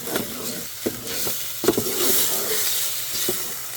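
Sloppy joe mixture of ground meat and sauce sizzles in a pan, a steady close frying hiss broken by a few soft stirring scrapes and clicks.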